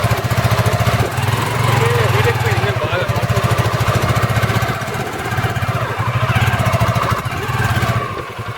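Off-road vehicle engine on a muddy trail near Ananthagiri Hills, Vikarabad, chugging and revving loudly in a steady pulsing drone while stuck in mud, with people talking over it.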